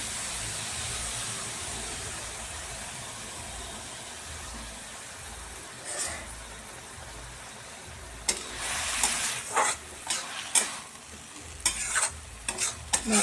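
Carrot halwa being stirred in a pan after a little water is added, a steady sizzle and bubbling with scraping spoon strokes that grow louder and more frequent toward the end.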